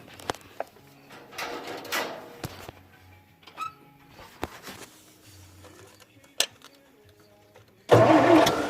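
An old Wisconsin engine, temperamental, sputters and cranks with scattered knocks and clanks before catching and roaring loudly to life at the end, close by.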